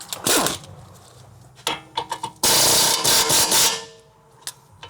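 Metallic clanks and ratcheting bursts ring out as a wrench works the 19 mm strut bolts and 21 mm nut on a 2007–2011 Honda CR-V front strut, with loud irregular clatter, a long grinding stretch and scattered sharp knocks, close by.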